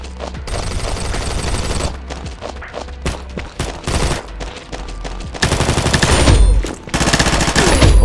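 Rapid gunfire from a shotgun and other weapons in the first-person shooter game Combat Master, dense bursts of loud shots and impacts running nearly continuously with a few brief gaps, over game effects.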